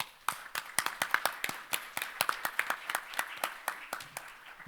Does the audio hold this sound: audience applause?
yes